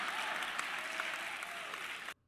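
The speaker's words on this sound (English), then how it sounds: "Why are people clapping for this?" Audience applause fills the room in a steady, dense wash for about two seconds before cutting off abruptly, recorded from within the crowd at a prophecy-style religious gathering.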